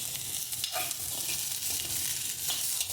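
Sweet corn stirred and roasted in a kadhai gives a continuous close sizzle with soft scraping and rustling strokes of stirring throughout.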